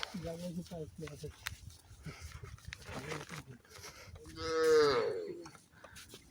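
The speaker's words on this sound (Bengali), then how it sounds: "কত গরু দেখো" Cows mooing in the Sundarbans, several short low calls early on and then one long, loud moo that swells near the end, with people talking over and between the calls.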